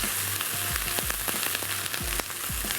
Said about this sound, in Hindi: और इतना पकाएंगे कि लहसुन का भी थोड़ा सा जो कच्चापन है वो दूर हो जाए।